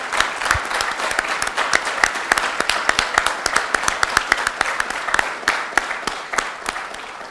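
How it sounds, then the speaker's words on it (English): Sustained applause from the PGPM class of 2018 audience at a consulting conclave, dense steady clapping with sharp individual claps standing out, continuous and fairly loud throughout. "a big round of applause for PGPM class of 2018"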